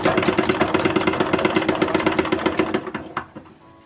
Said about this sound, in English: we're using the 1870s machine for this, as we have for most of the doll outfit